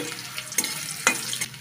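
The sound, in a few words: potatoes frying in oil in a pan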